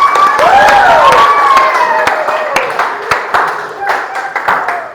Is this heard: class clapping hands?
yes